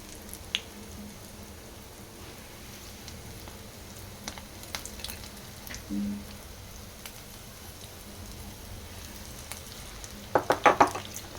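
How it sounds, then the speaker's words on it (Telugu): Mirchi bajji, chili fritters in batter, frying in hot oil in street-style fashion, a continuous soft sizzle with a few splashes and clatters, a short burst of sharper bubbling near the end. "మళ్ళీ ఒకసారి వేసేసుకోవాలి మిర్చి బజ్జీ."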